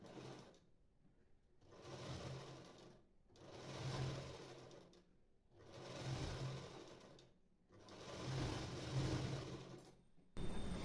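A sewing machine stitches a cross strip onto a blouse in four long runs of rapid whirring, separated by brief pauses, loud and close.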